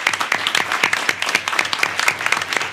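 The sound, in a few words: round of applause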